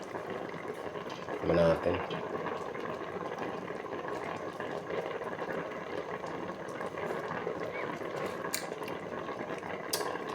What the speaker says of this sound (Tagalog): Ayan, kulo na guys.